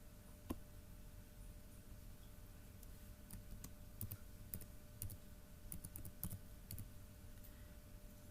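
Keys clicking on a computer keyboard as a password is typed, with sparse, irregular taps spread across several seconds, quiet and close against a faint steady background hum.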